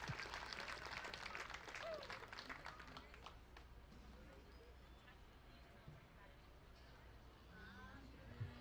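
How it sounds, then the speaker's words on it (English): Spectators at a junior livestock show clap for a class winner, a moderate burst of applause that tapers off into quieter arena background noise and faint talk. "give that young lady a good round of applause"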